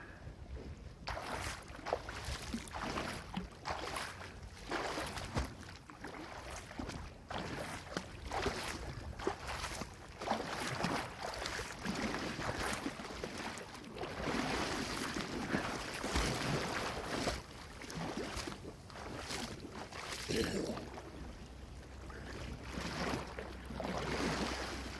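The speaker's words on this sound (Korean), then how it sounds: "파도 친다." Sea waves slosh and break around a swimmer floating in open water with a CO2-inflated rescue tube, in an irregular churning wash of splashes and gusts of wind against the microphone, continuous and fairly close.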